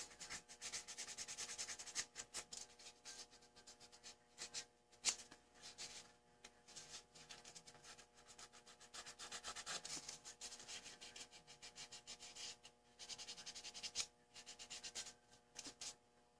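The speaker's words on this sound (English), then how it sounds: "Sand down a little bit, get that big edge off of it right there, and then right across here on the bottom." An edge being sanded down by hand: quiet, close rubbing and scraping strokes in irregular bursts, continuing for the whole stretch.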